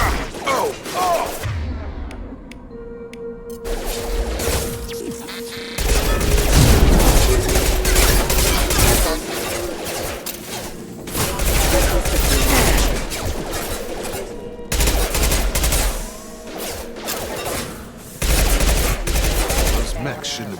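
Mechs open hostile fire in the video game Mass Effect 2, loud bursts of rapid gunfire stacking into a dense fusillade with crashing impacts, broken by short pauses, while a voice calls out over the shooting.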